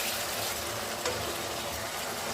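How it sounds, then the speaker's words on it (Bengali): Spices sautéing in a pan for a fish curry, a soft steady sizzle with faint stirring scrapes and one brief clink, heard alone. "মশলা কষাচ্ছি"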